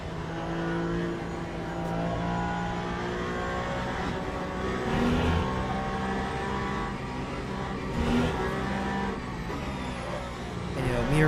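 A hypercar engine in a racing video game revs hard and sustained, a loud, tonal whine rising and falling through gear changes up close, with a voice talking underneath.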